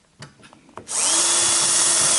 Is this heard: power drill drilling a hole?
yes